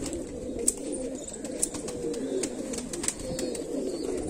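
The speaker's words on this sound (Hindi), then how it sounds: "ये देखें जी ये कबूतर है" Pigeons cooing softly at a home loft in R.S. Pura, Jammu, a low steady murmur of coos with a few faint chirps and light flutters, no talking.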